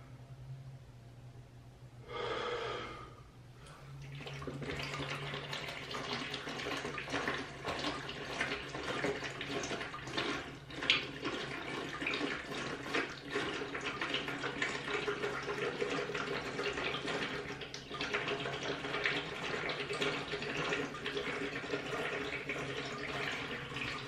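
A gallon of water is chugged fast from a vented jug, a continuous close gulping and glugging rush of liquid that runs for over twenty seconds after a brief breathy intake at the start.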